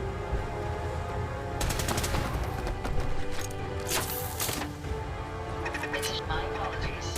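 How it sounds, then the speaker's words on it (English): Gunfire bursts in Fallout 4, a rapid crackling volley in the middle and a few later shots, sitting over steady game ambience with a voice talking now and then. "You're shooting at me now."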